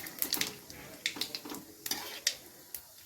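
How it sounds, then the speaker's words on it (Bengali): Black and white cumin seeds crackling in hot oil for tempering a Bengali tangra fish curry, a close, spitting sizzle broken by repeated sharp clicks of stirring in the pan. "এরপরে আমি ফোড়নের জন্য দিয়ে দিচ্ছি কালো জিরে আর কিছুটা সাদা জিরে"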